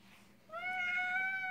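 A house cat meows once in a long, drawn-out, close and clear cry that begins after a short quiet pause and continues without anyone talking over it.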